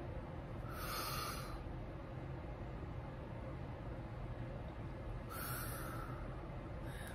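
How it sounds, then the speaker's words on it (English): A person takes deep breaths in and out at a slow, calm pace, with two soft, airy breath sounds heard close up over a steady low background hum. "Breathe in, breathe out."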